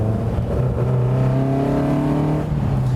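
A 1972 Lotus Europa Special drives through a tight bend, its engine note loud and close, steadily droning and rising slightly in pitch as it holds revs through the corner.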